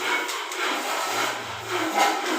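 Sandpaper rubs over a puttied toilet wall being prepared for primer, a steady close-up scraping with slight surges in pressure and no voices.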